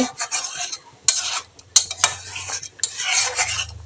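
A spoon scrapes and clinks against a pot while stirring lentil dal with fresh coriander leaves, giving close, uneven rubbing strokes punctuated by a few sharp metallic knocks.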